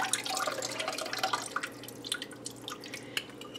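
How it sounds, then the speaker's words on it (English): Liquid pours off jarred sludgy potatoes as a quiet, steady trickle broken by splashy drips and small clinks, with no talking. "We're going to open up a jar of our sludgy potatoes, and I'm just going to pour that off of there."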